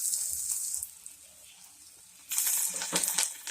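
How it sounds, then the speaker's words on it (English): Cauliflower frying in medium-hot oil in a pan gives a bright sizzle that fades briefly, then bursts back louder and crackling as more pieces hit the oil. "After the oil heated mediumly, then fry the cauliflower brownly."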